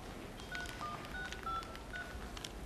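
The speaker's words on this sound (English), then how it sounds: "please enter their student number and then press hash" Telephone keypad DTMF tones sound in a quick series of short beeps while a number is dialled, faint and without talk.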